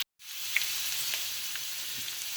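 Chicken pieces for chicken afritada fry in a pan with a steady, close hiss of sizzling oil and a few faint clinks, with no talking.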